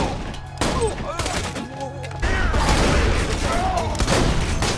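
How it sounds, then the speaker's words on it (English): Rocket-launching shotgun in an FPS video game, firing in a loud rapid series of booming blasts with whooshing projectiles, while someone talks over it. "like the rocket launching shotgun"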